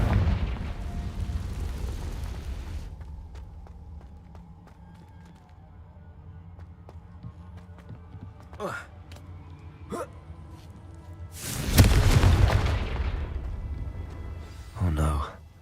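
Confringo spell explosions in Hogwarts Legacy, with a rumbling blast at the start followed by sharp cracks, then a loud booming burst near the end and another quick blast, set against low game ambience and some talk.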